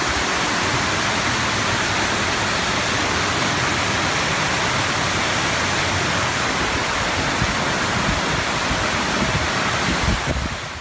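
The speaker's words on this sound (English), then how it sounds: "The waterfall." A waterfall pours into a flooded train station as a loud, constant roaring rush of water, steady and unbroken throughout, with no voices.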